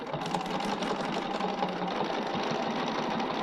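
A sewing machine stitching out a spirograph design runs nonstop and close, a loud, even mechanical whir with rapid needle chatter throughout and no talking.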